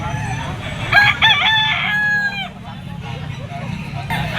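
Yellow-legged Kalaway stag gamefowl for sale crowing nearby in a short, loud cock-a-doodle-doo with clucks around it, while someone talks and other birds sound in the background.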